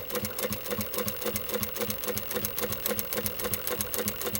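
A sewing machine stitches a zipper onto a long hooded cardigan, running fast and steady with an even mechanical clatter, fairly quiet and with no talking.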